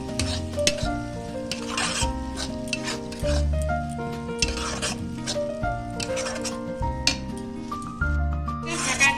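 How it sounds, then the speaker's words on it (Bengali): Tomato paste cooks over a medium flame in a pan for Bengali-style matar paneer, with repeated scraping stir strokes over a steady sizzle and soft background music. "এরপর টমেটোর পেস্ট দিলাম, এটা 4 থেকে 5 মিনিট মিডিয়াম ফ্লেমের মধ্যে পাকিয়ে নেব।"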